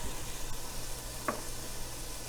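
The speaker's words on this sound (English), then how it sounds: "So now I am adding tomato here, chopped tomato" Chopped tomato going into a hot pan of oil for fish curry, giving a steady, soft sizzle and frying hiss with one brief clink of a utensil, no voices.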